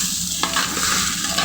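Khichuri is stirred and fried with ginger paste in a pan on the stove, a continuous close sizzle with scraping stir strokes running throughout.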